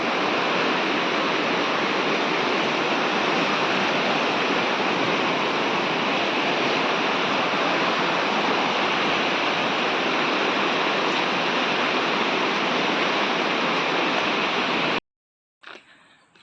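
River water rushes beneath a bridge in the countryside, a loud, continuous roaring wash that holds steady for about fifteen seconds before cutting off abruptly.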